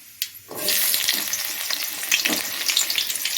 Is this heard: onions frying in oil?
yes